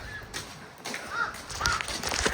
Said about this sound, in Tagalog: Andyan yung mga uwak.